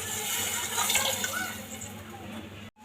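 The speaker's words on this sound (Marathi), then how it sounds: "आता आपण वाटण वाटताना जे पाणी आपण मसाल्याच्या भांड्यामध्ये घेतलं होतं ते आता आपण टाकून घेऊया" Water is poured into a spice paste cooking in a pan, making a short, steady liquid pour with a soft sizzle that stops abruptly near the end.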